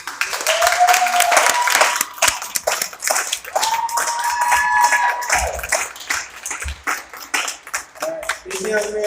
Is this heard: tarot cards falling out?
no